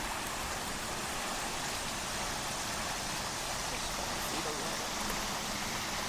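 Steady broadband rush of a flowing river, constant and unbroken, heard alone at moderate distance with no voices.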